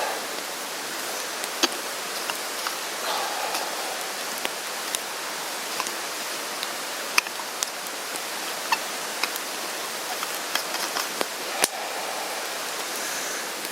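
Steady hiss and rushing noise with scattered small pops and crackles as water heats toward a boil in a pan; no voices.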